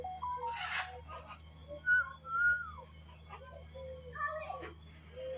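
An African grey parrot at a zoo gives several short, bright whistles, some rising and falling in pitch, over a steady low hum, with faint voices nearby.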